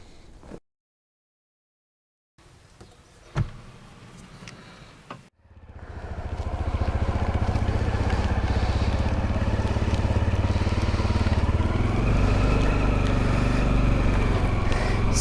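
A Honda CRF250 Rally motorcycle rides through rain in Croatia: after brief quiet and a few knocks, the engine starts and settles into a loud, steady drone with rising and falling revs that continues to the end.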